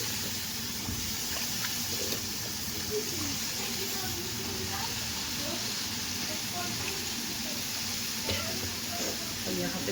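Eggplant and potato pieces fry in a hot pan with a steady, close sizzle and hiss that runs unbroken throughout, with faint scraping and stirring noises.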